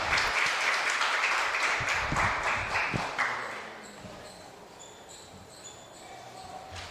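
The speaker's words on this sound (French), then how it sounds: "un tonnerre d'applaudissements pour ces jeunes filles qui représentent ces écoles" An audience at a school oratory contest final applauds the young girls representing their schools, a burst of clapping that fades after a few seconds into quieter room sound with faint tones.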